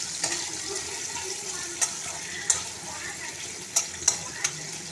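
Onions lightly frying in a pan with whole garam masala for prawn pulao, a steady hiss of sizzling with occasional soft clicks and stirring scrapes throughout, with no talking.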